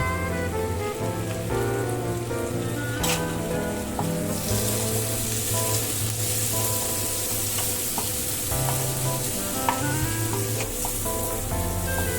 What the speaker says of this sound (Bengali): পেঁয়াজটা হালকা করে একটু ভেজে নেবো, তারপরে আমি টমেটো কুচিটা দেব।